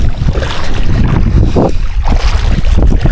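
Strong gusting wind buffets the microphone over open water, a steady loud rush with low rumbling bursts and no voices.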